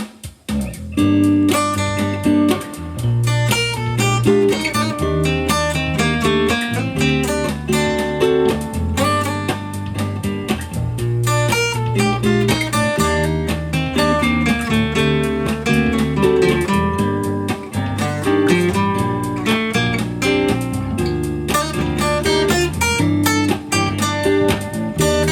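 Guitar improvising on the G natural minor scale over a backing track for a song, busy melodic lines over steady drums and bass, continuous and full for about twenty-five seconds without talking.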